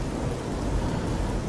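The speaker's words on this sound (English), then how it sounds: "Oh, and of course the rain." Heavy rain pours steadily with rolling thunder in The Elder Scrolls IV: Oblivion, a dense, loud storm wash with deep low rumbling throughout and no voices.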